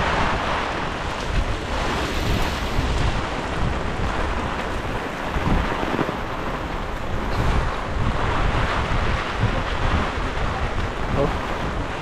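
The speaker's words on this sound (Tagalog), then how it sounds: "lakas po ng hangin" Strong wind after a typhoon roars and buffets the microphone continuously, a dense rushing noise with gusty surges throughout.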